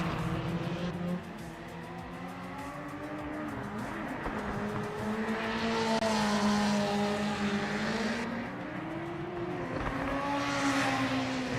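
Group C race car engines in Project Motor Racing howl continuously and loudly, the pitch rising and falling through gear changes and corners, with occasional tire squeal.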